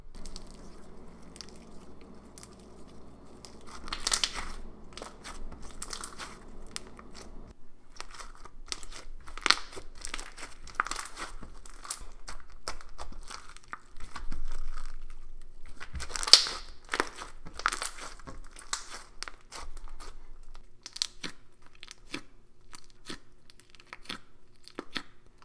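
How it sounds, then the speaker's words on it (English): Clicky, stretchy pumpkin cereal slime is squished and pulled close up, giving a long run of crackling pops and crinkly clicks in irregular bursts, with a low hum underneath at the start. "it's a very just clicky and very stretchy slime"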